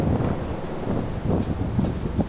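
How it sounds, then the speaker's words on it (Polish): Strong wind rushes steadily across a marina in Lavrio, Greece, a loud, continuous roar with buffeting gusts against the microphone and no voices. "On mówi, no wieje, 7 dzień tak wieje."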